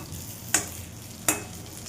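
Stuffed green chillies (bharli mirchi) frying in a pan on a low flame, a soft steady sizzle with two brief louder bursts as the chillies are stirred or turned, close and alone without talk.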